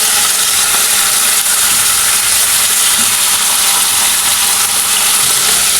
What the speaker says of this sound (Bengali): এবার এতে মুরগি বুকের মাংস কিউব করে কেটে এখন এটাকে আমি একটু ভেজে নিব।